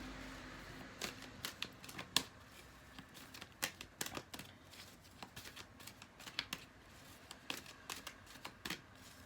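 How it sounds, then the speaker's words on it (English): Rapid riffling of a card deck, repeated in quick bursts of crisp flutters with brief pauses, close up and fairly quiet, no talking. "let me just do some shuffling here"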